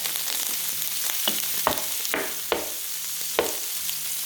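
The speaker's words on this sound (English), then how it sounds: "So I put in my 1/2 pound of shrimp. I'm actually going to go ahead and add the mushroom because mushroom needs time to cook." Half a pound of shrimp and mushrooms stir-frying in a pan for a snow pea stir fry: a constant close sizzle broken by several sharp spatula knocks and scrapes.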